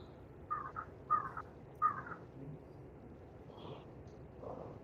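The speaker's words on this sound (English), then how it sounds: "I hear your crows." Crows cawing outdoors, three distinct caws in quick succession followed by fainter calls, moderately distant over a low background hum.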